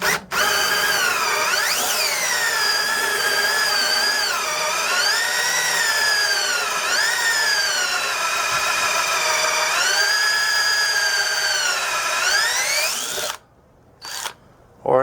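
Battery-powered tool grinding and cutting through a spring shackle on a 1994 Ford F350, a loud, steady whine with shifting pitch running nearly continuously before cutting off, followed by brief bursts.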